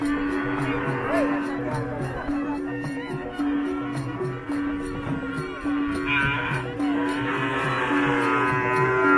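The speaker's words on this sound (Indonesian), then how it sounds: "suasana pasar sapi di Pulau Sapudi." Cattle moo repeatedly over a busy crowd of voices at a cattle market on Sapudi Island, with low calls rising and falling amid constant market chatter.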